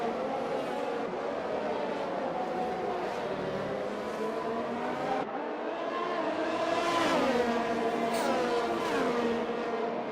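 Ferrari Formula One cars in the racing game F1 2021 scream past at full throttle, layered high-pitched engine notes rising and falling through gear changes in a continuous, loud roar.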